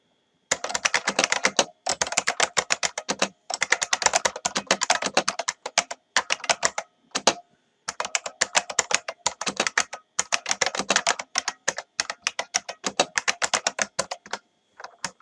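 Someone types a block of text on a computer keyboard in rapid clattering bursts, with short pauses between runs of keystrokes, close and clear, no speech.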